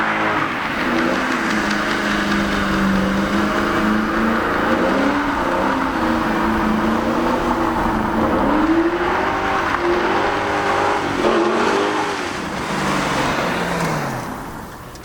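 A 2000 Ford Mustang SVT Cobra R with a 5.4-liter V8 is driven hard, its loud engine roaring and revving up and down through repeated accelerations, close by with no talk.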